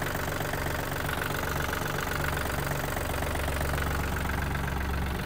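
A Yanmar F-210 Japanese mini tractor's diesel engine idles close by in a steady, even rhythmic chug that runs unchanged from start to finish, with no talking.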